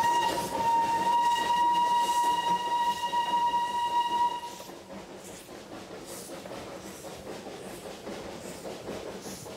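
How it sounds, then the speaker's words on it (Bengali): Darjeeling toy train steam engine running on its joy ride: a loud, sustained steam whistle blast for about four seconds, then the rumble and clatter of the train continuing at a lower level. "ধোয়ার ধ্বজা উড়িয়ে ছুটে চলেছে স্টিম ইঞ্জিন"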